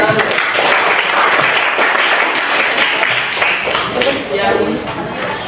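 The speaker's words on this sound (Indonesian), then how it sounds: "Oke, tepuk tangan." A class of students at an Islamic junior high school in Gorontalo claps together in a classroom, producing steady, close applause with voices mixed in beneath it.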